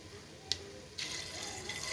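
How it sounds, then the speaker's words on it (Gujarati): Water pours steadily into a pressure cooker holding soaked chickpeas, a soft splash beginning about halfway through and continuing as a close, even rush. "પાણી નાખી દઈએ આપણે।"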